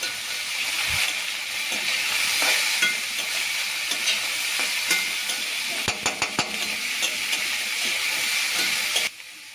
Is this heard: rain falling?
no